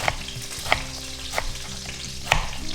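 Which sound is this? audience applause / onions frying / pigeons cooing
onions frying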